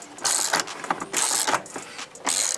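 Ratchet strap being cranked tight on a trailer, giving several bursts of loud, close, gritty clicking with short pauses between strokes.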